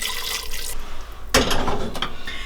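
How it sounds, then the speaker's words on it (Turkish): Water poured from a tap or jug over vegetables in a cooking pot for broccoli soup, a brief hiss then a sudden loud splashing rush that settles into a steady pour, close and alone. "Birazcık da üzerine aşacak kadar su ekliyorum."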